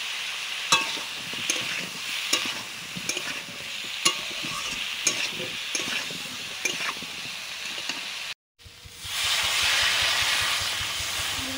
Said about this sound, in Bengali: চিংড়ি ভাজার পরে জল দিয়ে দিলাম।